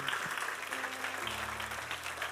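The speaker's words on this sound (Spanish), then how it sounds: "Dale un aplauso bien hermoso, bien lindo al Señor." Church congregation applauding the Lord during a sermon, a steady wash of clapping that lasts throughout, with a low sustained organ or keyboard tone underneath.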